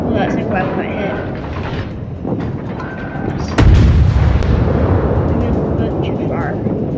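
Naval gunfire in the video game World of Warships lands as one heavy, loud boom midway, following a stretch of rumbling engine and sea ambience that keeps going after the blast.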